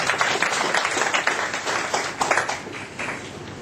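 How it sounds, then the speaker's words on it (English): An audience at a public talk on Islam in Malaysia applauds a visiting presenter, steady crowd clapping sustained for several seconds at a moderate, somewhat distant level with no voices. "Let's give a round of applause for him."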